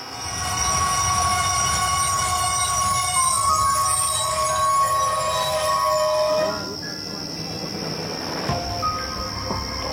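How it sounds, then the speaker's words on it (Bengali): A train pulls into a station platform with a loud, sustained rumble of wheels and carriages and high, ringing wheel squeals as it brakes. The noise eases and settles as the train comes to a stop. "দেখলাম 2 নম্বর প্ল্যাটফর্মের জায়গায় 3 নম্বরে এসে থামলো ট্রেন।"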